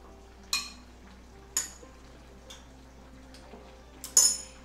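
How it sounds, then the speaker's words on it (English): A spoon dollops ricotta cheese onto meatballs in sauce, tapping the pan with several sharp metallic clinks spaced about a second apart, the last one loudest, over a quiet kitchen background. "So I'm just going to dollop some ricotta throughout."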